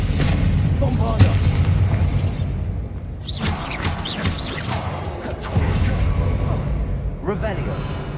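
A Bombarda explosion spell cast in Hogwarts Legacy, heavy booms and crashing bursts under constant loud game noise, with voices speaking over it.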